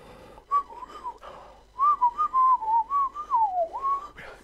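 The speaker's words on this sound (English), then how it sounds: "You make a sound from your throat with a whistle." Someone whistles a longer, wobbling tune close up, a few tentative notes first, then a sustained run of gliding, bending pitches ending on a rising note, with no speech over it.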